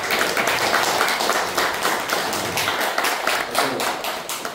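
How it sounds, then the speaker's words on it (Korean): A hall full of people claps steadily for a chairman at an anniversary general assembly of a health forum, the dense even patter of many hands continuing without a break. "우리 민봉기 회장님 박수 한번 부탁드립니다"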